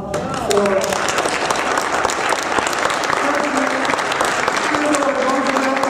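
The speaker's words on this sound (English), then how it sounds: "we just want to give a big applaud for" Audience applause at a civic center presentation featuring a Theodore Roosevelt reenactor, loud sustained clapping from a crowd with a voice speaking over it.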